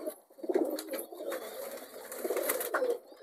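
A sick pet pigeon coos softly nearby in a short, low, throaty phrase that swells and fades over about three seconds, alone without speech.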